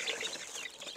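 A coop of mixed-breed chickens, Black Australorp, Rhode Island Red and native birds, clucks and murmurs continuously in a soft, busy chorus over a short stretch, with no talking.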